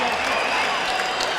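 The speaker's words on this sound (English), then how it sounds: "How about a big round of applause for him, ladies and gentlemen?" A fight crowd applauds and cheers mixed martial arts fighter Clay "The Carpenter" Guida after his victory, a dense, loud wash of clapping and crowd noise that fills the whole moment.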